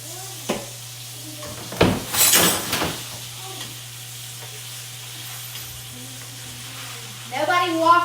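Chicken breasts for chicken piccata sizzle quietly in a pan as they are turned, with short bursts of loud frying hiss and a faint pan clatter around a steady low hum, and a voice briefly heard at the end.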